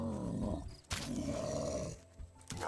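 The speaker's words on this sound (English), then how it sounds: "Where's the bear? Oh, there it is." A bear roars in the video game Raft, a loud, rough growling roar that runs almost continuously for under three seconds, broken by a short gap, with no talk over it.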